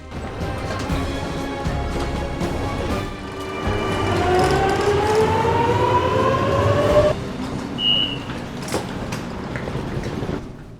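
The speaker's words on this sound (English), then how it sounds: "we are now making our way through the station." Busy Sydney train station ambience with a rising tonal whine like a train pulling away, steady crowd and machinery noise, and a brief high chime near the end.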